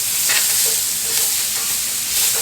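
Onions sizzle loudly in a pan of Southern smothered pork steak drippings, a dense close frying hiss with soft stirring scrapes repeating throughout.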